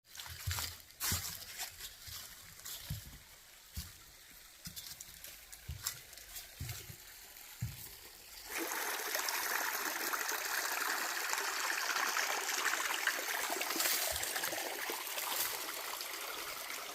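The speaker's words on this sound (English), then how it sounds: "And you can hear the water." Middle Creek in Big South Fork, Tennessee, flows steadily with a broad rushing wash that swells louder partway through and then holds, with scattered footsteps and handling noise earlier on.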